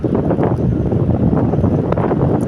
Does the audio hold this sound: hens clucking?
no